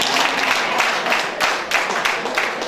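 A crowd at a Rwandan wedding claps together in a dense, lively burst of applause, with some rhythmic surges, close and continuous throughout.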